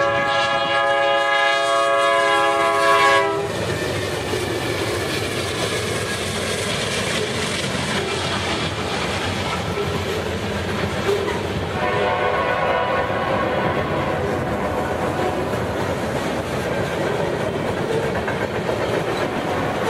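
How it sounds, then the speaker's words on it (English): A westbound Santa Fe train led by two War Bonnet GE C44-9W locomotives races past in Garry's Mod; a loud multi-tone horn sounds at first, then a steady, close rumble and rail clatter continue throughout. "another westbound train sporting two War Bonnet GE C44-9Ws races by"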